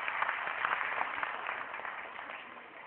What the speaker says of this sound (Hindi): तालियों से इनका स्वागत करें